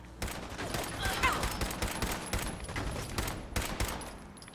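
Rapid gunfire in Fallout 4, dense bursts of shots in quick succession lasting the whole stretch, loud and near, with a player talking faintly underneath.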